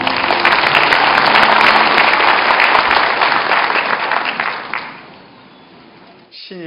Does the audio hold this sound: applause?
yes